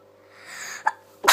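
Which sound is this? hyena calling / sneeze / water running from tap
sneeze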